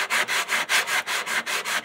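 Hand sanding of a wooden door panel, brisk back-and-forth rasping strokes in a steady rhythm of about four per second, close and fairly loud with no voices.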